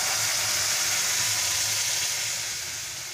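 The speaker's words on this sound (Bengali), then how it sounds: "এবারে আমি যে পেস্ট করে রেখেছিলাম সেই পেস্টটা দিয়ে দিচ্ছি।" Spice paste dropped into hot oil in a pan while cooking milk chicken, giving a loud, steady sizzling hiss that eases slightly toward the end, with no voices.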